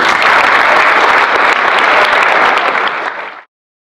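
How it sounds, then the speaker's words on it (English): A large audience at a football club presentation evening claps loudly for the sponsors, a thick steady wall of applause that holds for about three seconds and then quickly dies away to silence. "So if we can give our sponsors a round of applause."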